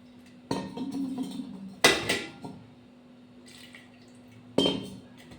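Water splashes and sloshes in a bowl as raw mangoes are rinsed, with a few sharp clatters of vessels and quiet pauses between.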